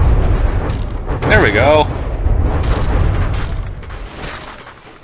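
Bombs bursting in the naval combat game From the Depths: a loud, sustained low rumble of explosions rolling on for several seconds with someone speaking over it, fading toward the end.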